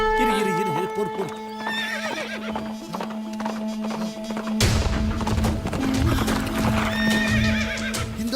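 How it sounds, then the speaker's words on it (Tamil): A white horse approaches, its hooves clip-clopping in a steady rhythm and a loud, drawn-out neigh and whinny rising over the footfalls. "குதிரை வர சத்தம்"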